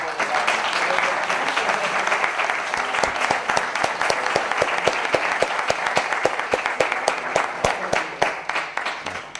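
Audience applause for Mabel, a sponsor, at a mystery-themed conference session; dense, steady clapping from a full room carries on for several seconds with sharper individual claps standing out near the end.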